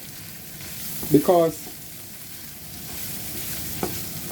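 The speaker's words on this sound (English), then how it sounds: "So just let it stay there and simmer a bit." Wild garlic sandwich filling simmering in a pan on a just-turned-off stove, a steady low sizzle throughout with a brief word of speech over it.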